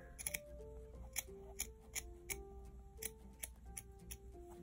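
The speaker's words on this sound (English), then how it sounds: "just cutting through the back fabric using just the tip of your scissors" Scissor tips snip steadily through the backing fabric of faux fur, a series of short crisp cuts in an irregular rhythm, close up, with faint background tones.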